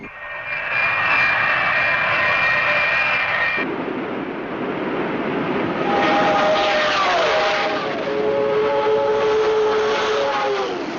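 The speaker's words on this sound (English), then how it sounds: "Unidentified aircraft, 11 o'clock high." Loud jet aircraft roar passing overhead, a sustained engine whine whose pitch shifts and then drops midway as the plane goes by, continuous and without speech.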